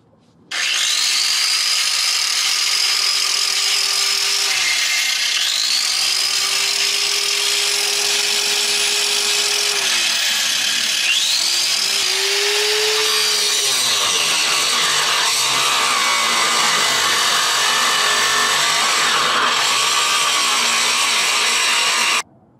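A power grinder works the floor of a Ford Transit Connect van in an alleyway, running loud and close throughout with a harsh abrasive whine that dips and rises again several times as the tool bites and is lifted.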